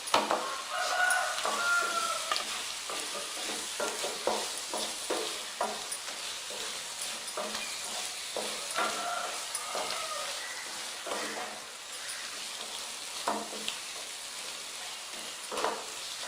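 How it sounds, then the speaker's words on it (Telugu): Chicken feet sizzle in a pan while a utensil scrapes and stirs in repeated strokes, a soft crackle running throughout. "కాలిన తర్వాత మనం శుభ్రం చేసుకున్న కోడి కాళ్ళను దీంట్లో వేసేసి తిప్పుదాం."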